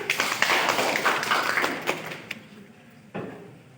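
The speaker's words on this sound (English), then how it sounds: "Let's clap for him." A classroom of students clapping for a classmate, a loose burst of hand claps that thins out and fades, followed by one last sharp clap.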